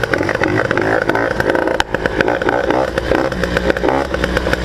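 A tuned Tomos or Peugeot moped engine runs loud and close just after ignition, a steady buzzing two-stroke drone with slight revving variations and no talk over it.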